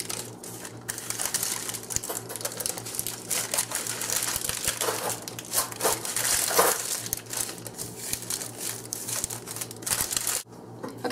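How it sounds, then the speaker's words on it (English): Wax paper crinkles and rustles as shortbread cookie dough is rolled up in it, a close, continuous run of crackling and crumpling with a low steady hum underneath. "I'll roll it up in my wax paper again"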